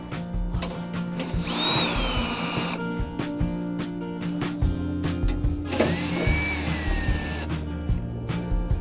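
A power driver with a socket whirs in short bursts, removing the 7mm screws that hold the control panel on a pellet grill, with a mechanical hum steady underneath and no talking.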